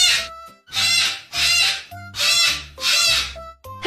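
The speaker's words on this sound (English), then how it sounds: "I'm a cockatoo." A cockatoo, a bird with a yellow crest, gives five loud, harsh screeching calls in a regular rhythm over soft background music.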